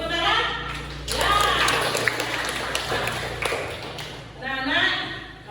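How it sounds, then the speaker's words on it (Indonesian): Children in a classroom clap their hands together in a dense, noisy burst of claps lasting a few seconds, with a teacher's voice and children's voices heard before and after. "Tepuk tangan."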